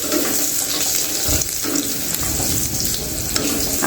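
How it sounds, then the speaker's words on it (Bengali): Green plantain frying in a pan, a dense continuous sizzle with brief stirring scrapes, close and loud throughout with no talking. "প্রথমেই কাঁচকলাটাকে আমি একটু ভেজে নিচ্ছি"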